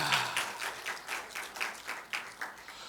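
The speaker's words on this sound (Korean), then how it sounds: "박수 한번 쳐줘야 돼" Soft applause from a church congregation during a Sunday worship service, a fairly faint, distant patter of clapping with rhythmic pulses, no talking over it.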